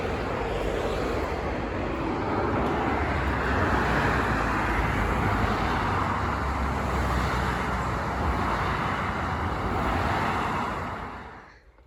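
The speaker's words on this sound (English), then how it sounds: "you'll hear the noise of the traffic below. That's the A82." Steady, loud roar of traffic on the A82 road passing beneath a bridge, a dense continuous wash of tyre and engine noise that fades out at the end.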